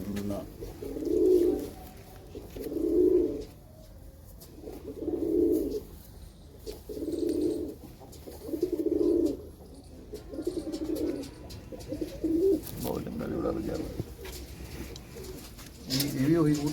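Pigeons coo in a slow, regular series of low rounded calls close by, each lasting about a second with gaps between, and a voice briefly speaks near the end.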